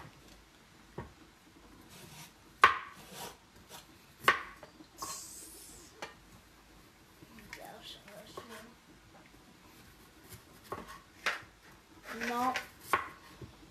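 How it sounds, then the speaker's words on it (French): A knife chops a watermelon radish on a cutting board during spring roll preparation, sharp scattered chops and taps between stretches of quiet, with people talking briefly. "je vais couper le radis melon d'eau"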